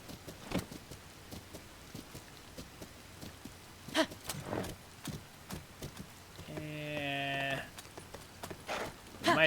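Horse hooves clip-clop in the video game Zelda: Tears of the Kingdom, as a few scattered, sharp thuds over a low ambient bed, with a brief tonal game sound in the middle.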